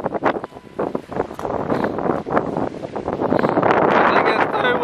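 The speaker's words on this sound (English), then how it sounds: "I think it's too windy." Strong wind buffeting the microphone with loud, continuous roaring gusts beside a lake, building in intensity toward the end, with a voice briefly heard under the noise.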